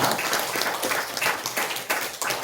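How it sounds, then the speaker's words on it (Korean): A church congregation at Sunday worship gives a round of thankful applause, quick rippling claps that swell and dip across a short burst. "우리 수고하신 분들 위해서 우리 감사의 박수 드리겠습니다."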